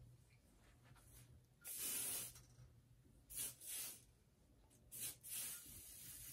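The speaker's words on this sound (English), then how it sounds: "I'm going to take the time to spray some hairspray." Several short aerosol sprays hiss out in bursts, one longer blast followed by a few quick puffs, close by against a quiet background.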